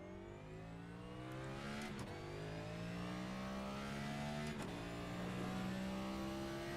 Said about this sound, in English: And up through the gears, here we go.